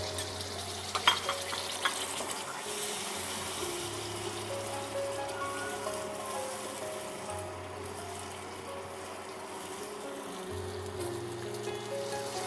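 Spices fry for alu katli in a pan over a very low flame, giving a steady close sizzle with a few stirring clinks early on, heard without talk.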